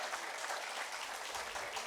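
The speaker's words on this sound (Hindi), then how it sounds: "तालियों के साथ उनका स्वागत करिए" At an awards ceremony, a crowd gives a short, soft burst of applause to welcome a senior Supreme Court advocate onto the stage, the clapping dense but distant and quiet.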